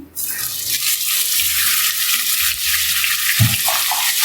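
Boneless chicken cubes dropped into golden-brown garlic in hot oil, a loud bright sizzle bursting in at the start and holding steady, with a low thump of stirring toward the end.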